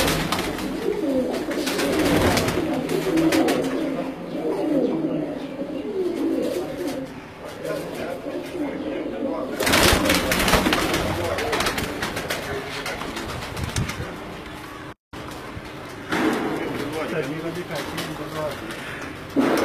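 Pigeons coo on a Pakistani rooftop loft where flying pigeons are kept, with soft repeated throaty calls running through the clip and someone talking over them at intervals.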